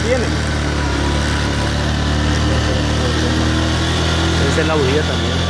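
A motorcycle engine runs steadily near roadworks on the Siloé–Mónaco road, a constant close drone with a buzzing mid-range tone and little variation throughout.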